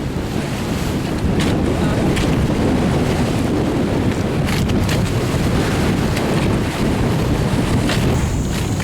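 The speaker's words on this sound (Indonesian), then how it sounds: "Selama pelayaran menuju Jeneponto ini, kondisi angin semakin kencang." Strong wind roars steadily over a sailing boat at sea on a voyage toward Jeneponto, with waves reaching 2–3 meters crashing and surging around the hull, a loud continuous rush with no talk.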